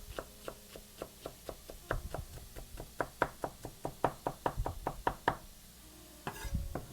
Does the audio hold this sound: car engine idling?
no